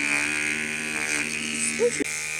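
A child's electric toothbrush buzzes steadily and close, a continuous hum with a brief break near the end.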